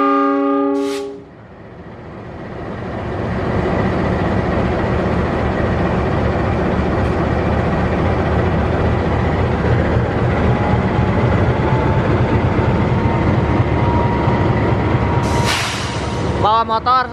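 A double-headed diesel locomotive train rolls past at night at close range, sending out a loud steady rumble and clatter. A horn sounds briefly at the start and again near the end.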